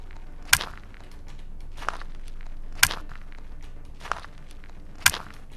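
A stick-hit sound effect repeats in a video editor, sharp percussive cracks recurring at regular intervals, alternating with softer knocks, loud and close with no talk.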